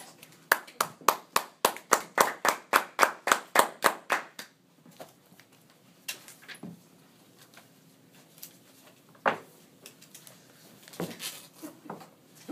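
Audience applause greets a speaker named Michael at a talk, a burst of steady clapping for about four seconds that then thins to a few scattered claps and small murmurs.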